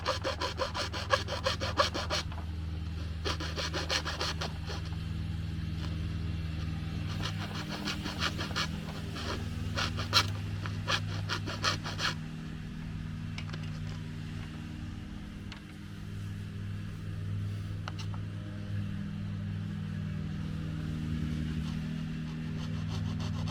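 A saw cuts wood for a camper van floor in rhythmic bursts of rasping strokes with pauses between sets. The strokes are close and fairly quiet over a steady low background hum.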